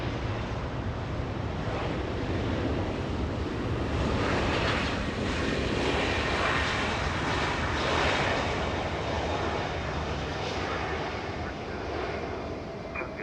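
A 16-year-old JetBlue Airways Airbus A320 arriving at Los Angeles International Airport gives a broad, loud engine roar that builds and holds steady for several seconds, mixed with wind buffeting on the microphone.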